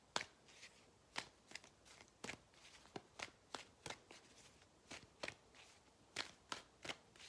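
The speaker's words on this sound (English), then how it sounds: "Making me shuffle here." Tarot cards being shuffled up close, a quiet series of crisp riffling snaps repeating at a steady, uneven rhythm with no talk.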